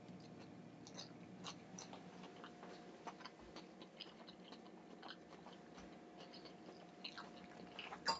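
Someone chewing a crunchy tuna, feta and arugula salad dressed with red wine vinaigrette, close and quiet, with a steady run of small crisp bites and crunches.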